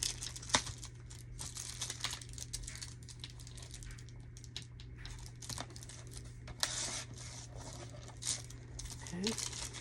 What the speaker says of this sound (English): I'm going to trim it all the way around to make it kind of square.